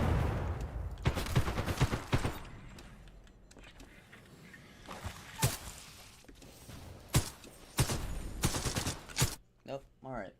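Gunshots in Titanfall 2, scattered sharp cracks and short bursts over game sounds, fairly close, with a voice talking between them.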